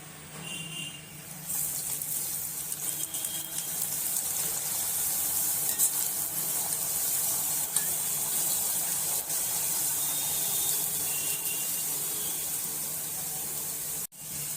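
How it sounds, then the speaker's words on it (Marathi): Pumpkin gharge puris fry in hot oil with a steady, dense sizzle and bubbling hiss that carries on evenly throughout, close and fairly quiet, with no talk. "तेल गरम झालं आहे आता आपण यात पुरे टाकूया"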